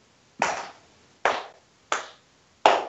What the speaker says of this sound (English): Slow golf clap for you.